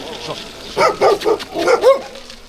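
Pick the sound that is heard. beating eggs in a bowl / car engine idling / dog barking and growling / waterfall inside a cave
dog barking and growling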